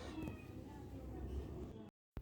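A cat meows repeatedly at a veterinary clinic, short plaintive calls heard close amid room noise and a voice, before the sound cuts out briefly near the end.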